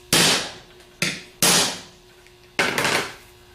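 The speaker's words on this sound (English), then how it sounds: "Then take a 3/4 socket and give it 2 hard smacks" Four sharp, ringing hammer blows strike a 3/4 socket set against an alternator clamped in a vise, close and loud, each decaying quickly, the last two in a quick pair.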